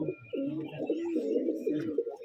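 A Rajshahi Giribaj pigeon, a short-beaked bird from a pigeon loft, coos in low, rolling phrases that continue steadily for about two seconds, close and moderately loud, with faint chirps in the background and no talking.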